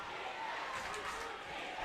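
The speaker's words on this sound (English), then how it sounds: "Pioneers crowd chanting defense." A crowd of home fans at a girls' high school basketball super-sectional game chants 'defense' in the final seconds of a quarter, a steady, fairly faint mass of voices filling the gym throughout.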